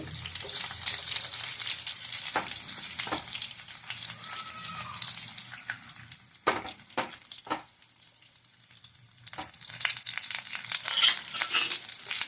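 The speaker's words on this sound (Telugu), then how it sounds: "వేగిన తర్వాత ఒక రెమ్మ కరివేపాకు వేసుకోండి ఇప్పుడు ఆనియన్స్ వేసుకోండి" Chopped onions and a sprig of curry leaves sizzle and crackle in hot oil in a pan, a steady close frying hiss with a few sharper pops and stirring scrapes, no voices.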